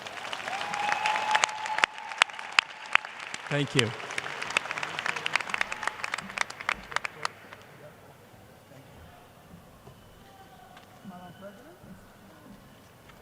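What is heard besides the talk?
commencement audience applause for families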